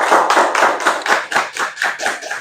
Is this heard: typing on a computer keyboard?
no